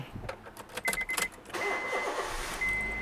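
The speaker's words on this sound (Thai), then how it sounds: "นี่รถสตาร์ทแล้วเครื่องเงียบกิบมาก" A 2011 Honda City 1.5 V with an i-VTEC engine starts up: a few clicks and a short crank, then the engine catches and settles into a quiet, steady idle heard up close.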